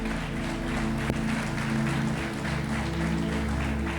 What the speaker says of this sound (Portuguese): Aplauda Ele essa noite.